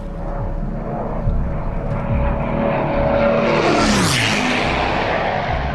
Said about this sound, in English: Certainly lower than most people are used to having aircraft pass over their heads.